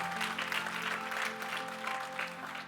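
Congregation in a church gives loud, sustained applause, a dense patter of many hands clapping steadily for a couple of seconds, with a low organ or keyboard tone held underneath.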